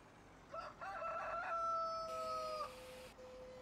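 A rooster crows once in the Farming Simulator 2013 game, a drawn-out call against a low background hum, alone without talk.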